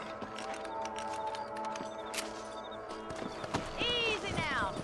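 Horse hooves clip-clopping with a whinny near the end in the Western video game Red Dead Redemption, set over ambient game sound and music, with a voice speaking in the background.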